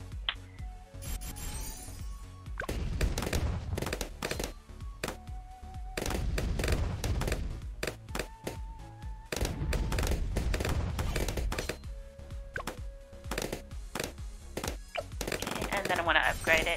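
A bomb shooter tower in the Bloons TD6 video game fires repeatedly, with sharp percussive blasts and thuds arriving in irregular bursts among other game sound effects and music.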